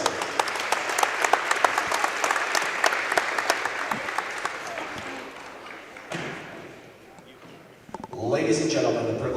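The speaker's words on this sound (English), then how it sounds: "Please welcome them to Northview by giving them a warm round of applause." A crowd in a high school gym at a basketball game claps steadily for a welcomed crew, the applause fading out near the end before a burst of cheering and noise rises again.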